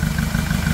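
Hyundai D4CB diesel engine idling with a steady low rumble and light rhythmic clatter, close and continuous.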